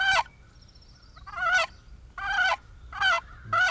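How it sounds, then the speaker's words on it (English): A wooden box call is scraped to make a turkey yelp: five short, raspy two-tone bursts, close and loud, spaced by brief pauses. "to do the yelp, you just let that paddle slide back so that it covers over the sound chamber, and that'll create that little two-tone chalk sound"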